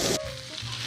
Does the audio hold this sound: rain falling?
no